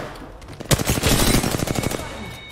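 Gunfire in a fast-paced shooter game, a sudden loud crack followed by a rapid flurry of shots lasting over a second, close and dense, fading into background game noise.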